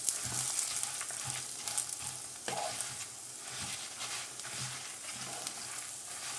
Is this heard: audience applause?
no